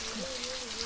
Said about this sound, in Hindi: इधर तो बारिश हो रहा है